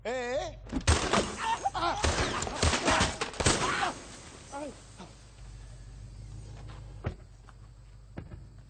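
Gunfire in a Spanish comedy film scene, a rapid burst of sharp cracks and impacts with crashing debris over the first few seconds, mixed with shouting voices, then a single fainter shot later.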